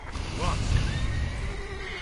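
A mare whinnies in the Witcher 3 game world, a wavering neigh rising and falling over a steady low rumble, with a spoken voice running beneath it.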